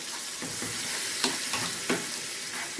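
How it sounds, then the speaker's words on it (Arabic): Food sizzles steadily as it is sautéed and stirred in a hot pan until its liquid dries off. A few louder scrapes of stirring stand out over the continuous frying hiss, and no one talks. "نقدر نشوحها لحد ما تنشف معانا كده"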